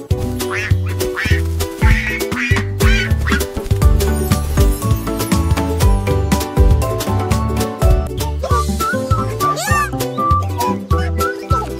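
A cartoon duck quacks repeatedly in a lively children's song, its quacks mixed into a dense, loud backing of music throughout.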